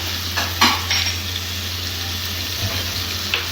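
Butter and spices sizzling and crackling steadily in a pan, close and loud, with a few faint metallic scrapes of a spoon.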